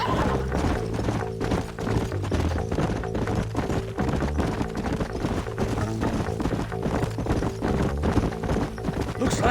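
Hooves of several horses clip-clopping at a steady trot in the western video game Red Dead Redemption, a continuous rhythmic patter of hoofbeats alongside a whinny, riding gear and game sounds, with voices talking over it.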